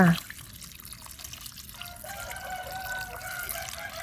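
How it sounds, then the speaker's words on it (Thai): Clean water pours and trickles while cicadas and cicada larvae are washed, a faint steady splashing and dribbling close by with a brief knock at the start. "ล้างแค่น้ำสะอาดก็พอจ้า"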